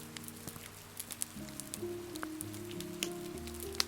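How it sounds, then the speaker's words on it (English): Steady rain patters on a surface in a gentle, continuous wash, with soft low musical tones beneath and scattered faint drips across the whole stretch. "The sound of rain will remain steady throughout the full 5 hours"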